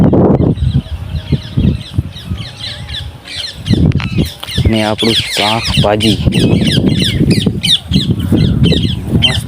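Birds squawk and caw repeatedly outdoors, mixed with someone talking over them throughout.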